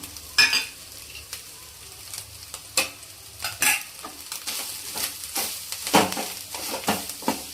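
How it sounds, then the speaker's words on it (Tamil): Spice powders being stirred into fish curry in a pan over low flame, with repeated scraping strokes of the spoon over a soft sizzle, close and fairly loud. "இது நல்லா கிண்டிக்கிட்டே இருக்கணும் தீயை வந்து லோ ஃப்ளேமில் வச்சுக்கோங்க"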